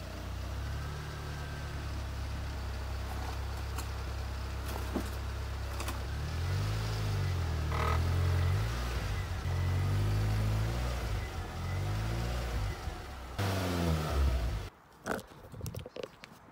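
A Ford Fiesta ST150 engine idles and revs in low rumbling surges as the car creeps forward up onto wooden ramps, with creaks and knocks, then cuts off near the end.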